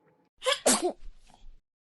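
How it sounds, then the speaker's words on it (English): One sharp sneeze, close and fairly loud, with a short breathy trailing sound afterward. "Who here has ever had to sneeze?"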